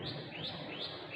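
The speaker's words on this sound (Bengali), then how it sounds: "ওই পাখি আইতেছে" A small bird gives a quick series of faint, high chirps in an even rhythm, heard at a distance against quiet background noise.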